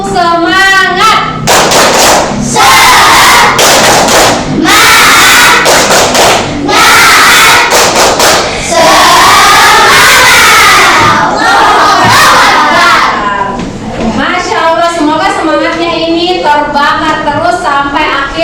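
Children perform the tepuk semangat clapping chant in a classroom lesson: loud group chanting and shouting with bursts of rhythmic clapping, nearby and energetic, with voices rising and falling over about eighteen seconds.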